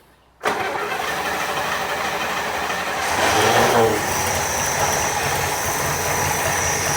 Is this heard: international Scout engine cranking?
yes